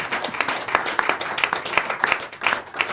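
A crowd at an event with Nigeria's Minister of Interior claps for a woman being honored, brisk scattered hand claps overlapping into a lively, uneven round of applause.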